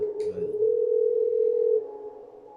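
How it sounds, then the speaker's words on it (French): An old telephone's dial tone in the video game Parasite Eve 2: a steady, loud, low hum lasting about a second, preceded by a brief click and followed by a quieter tail, with no voices. "Il a de la tonalité."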